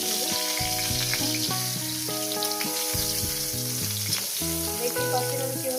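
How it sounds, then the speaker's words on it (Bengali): Eggplant slices fry in hot oil, a loud continuous sizzle and crackle close up, lasting the whole stretch with no speech. "হালকা করে লাল করে ভেজে তুলে দেবেন"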